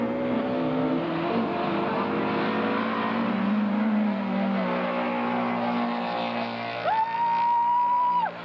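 Race cars at the Simararing circuit in Debrecen roar through a corner, a loud sustained engine drone with shifting pitch, ending in a rising high whine as a car accelerates.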